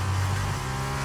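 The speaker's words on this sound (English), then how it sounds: "We had the engine rev." A Formula 1 car engine in the F1 23 racing game holds a loud, steady high-pitched drone that eases slightly partway through, close and continuous with no talking.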